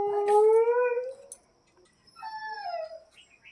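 A dog howls in two drawn-out, wavering cries separated by a short pause, the first rising and the second falling away, fairly close and alone with no talking.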